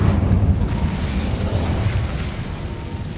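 Incendio, a fire spell in Hogwarts Legacy, makes a sustained loud roaring burst, a thick low rumble with crackling texture that stays strong for a few seconds.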